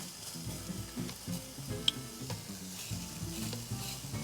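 Eggplant slices brushed with olive oil sizzling on a barbecue grill, a soft continuous crackle and fizz with faint scraping and one small clink, no voices.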